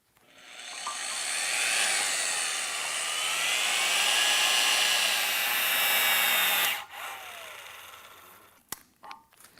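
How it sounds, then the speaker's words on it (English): An impact gun set to 450 foot-pounds tightens a bolt and nut, a loud sustained high whirring hammer for about six and a half seconds, then stops abruptly, followed by a few brief clanks. "we're going to take our gun, still set at the 450 foot-pounds, hold my finger on the trigger"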